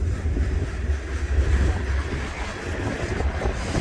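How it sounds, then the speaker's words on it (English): Strong wind roars steadily against the microphone at Niagara Falls, a dense low rumble with a broad hiss, continuous and close throughout. "Boy, it's windy."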